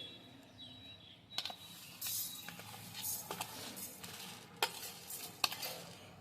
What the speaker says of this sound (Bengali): এবার আমি এই মশলাগুলোকে শুকনো খলাতে ভেজে নিচ্ছি